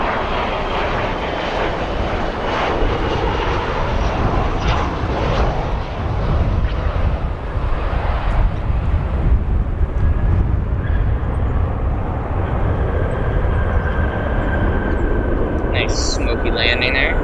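Aeromexico Boeing 737-800 landing at O'Hare, a loud sustained jet engine roar filling the whole clip, with a voice talking over it.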